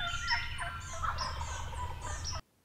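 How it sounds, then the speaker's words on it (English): Wild turkey gobbler gobbling in the woods, several rapid warbling gobbles rolling together at moderate distance over steady background hiss, ending abruptly. "We've got a gobbler that's hammering after every call"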